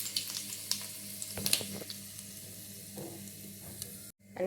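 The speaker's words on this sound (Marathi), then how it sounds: "मोहरी मस्त तडतडली की थोडीशी कोथिंबीर टाकायची" Mustard seeds crackle in hot oil while tempering a peanut chutney, a steady frying sizzle dotted with small sharp pops, close and without any voices.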